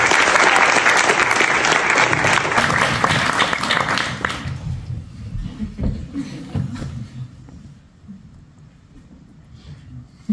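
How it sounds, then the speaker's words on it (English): An audience at an improv comedy show breaks into loud, close applause that gradually thins out and fades to scattered claps and murmurs. "Round of applause."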